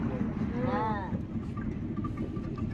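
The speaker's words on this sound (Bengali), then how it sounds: "বড় বোট" A large boat on open water gives a low, steady rumble under constant wind buffeting the microphone, with a brief warbling tone early on.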